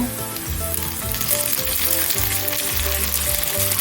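Onion and tomato fry in a pan with a loud, close, crackling sizzle that runs without a break, alongside low rhythmic clatter from the pan being worked. No one speaks.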